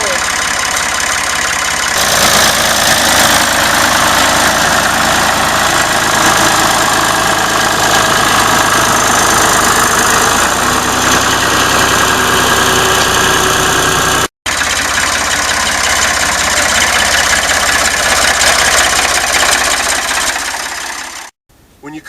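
A tractor pulling a trailer through vineyard rows runs loudly and steadily, its engine drone filling the sound up close, with a voice speaking over it and brief dropouts near the end.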